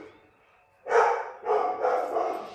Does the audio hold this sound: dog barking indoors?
yes